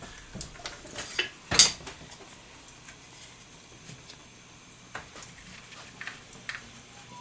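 Metal utensils clink in a home kitchen as a spoon is pulled out, one sharp bright clatter standing out among scattered lighter taps and clicks over a quiet background.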